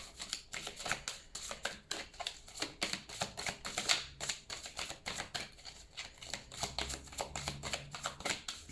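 Oracle cards being shuffled, a soft rapid riffling and flicking that runs in quick bursts throughout, close up and quiet, with no talking.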